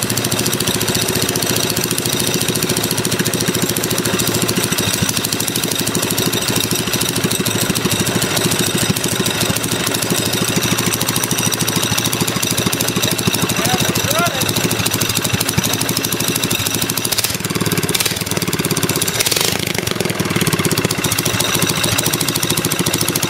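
A Predator 212 small engine fitted with new valve springs runs steadily after starting, a loud continuous chugging drone close to the microphone with a few brief changes near the end.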